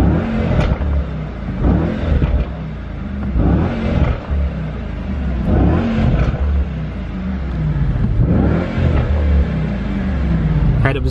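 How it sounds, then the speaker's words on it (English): A 2018 Mercedes-AMG E63 V8 engine revs repeatedly in sport plus mode in strong bursts, each rise falling back to a burbling idle, with sharp crackles from the exhaust. "let's just give it some revs in sport plus"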